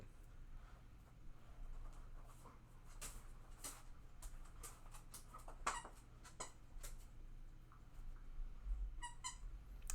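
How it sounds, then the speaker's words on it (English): Dog's squeaky toy squeaking in the background, faint scattered high squeaks in irregular bursts over a quiet low hum. "Apologies for the dog squeaky toy noise in the background."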